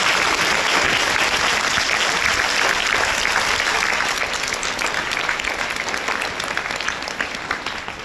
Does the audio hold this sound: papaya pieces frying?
no